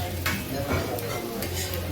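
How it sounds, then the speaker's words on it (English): Food sizzles and fries loudly in a very hot pan while Coca Tenorio is being cooked, with a dense, steady hiss and crackle plus a few stirring scrapes running the whole time. "I hope you can hear me over the sound of sizzling. I mean, there's a bit of major sizzling going on here."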